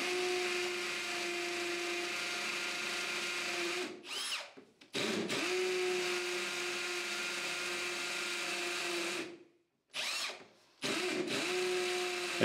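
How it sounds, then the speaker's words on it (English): An AEG 18V cordless drill (BSB 18 CBL) grinds steadily into masonry, drilling a 10 mm hole, its whine briefly stopping twice before starting again, loud and close. "And here I'm drilling a 10 mm hole in some masonry."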